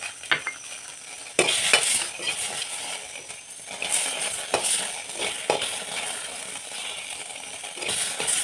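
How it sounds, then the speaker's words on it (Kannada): Tomatoes and garlic sizzle in hot oil while a spoon stirs and scrapes the pan, with intermittent metallic clinks over a steady, fairly loud fry. "ನೋಡಿ, ಈಗ ಟೊಮೆಟೊ ಹಣ್ಣು ಹುರ್ಕೊತಾ ಇದ್ದೀನಿ."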